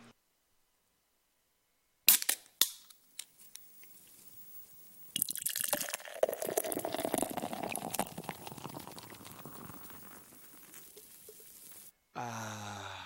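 Craft beer from Northern Superior Brewing opened with a sharp pop and clinks, then poured in a steady foamy fizzing stream for several seconds, ending in a brief bubbly hiss; no talking.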